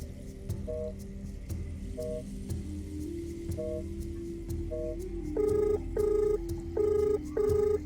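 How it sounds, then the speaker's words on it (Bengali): A telephone rings in a quiet room: short repeated electronic ring bursts at first, then a louder regular pattern of four pulsing rings near the end, clear and close with a low background hum and no talk. "ফোন"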